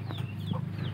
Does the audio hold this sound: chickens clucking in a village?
yes